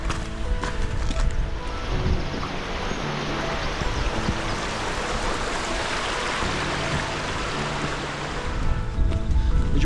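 River water rushing steadily beside a Lake District hiking path near Castle Crag and Grange Fell, a continuous broad wash of flowing water heard up close with no one speaking.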